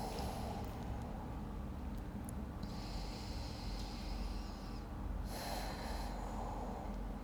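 A slow, airy exhale during Iyengar yoga breathing, held as a steady, breathy rush close to the mic over a low background hum, with no talking.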